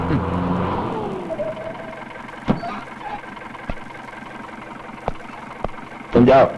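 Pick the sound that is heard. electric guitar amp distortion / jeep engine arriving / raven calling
jeep engine arriving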